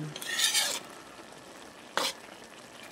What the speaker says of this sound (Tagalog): Ginisa ko lang sa bawang sibuyas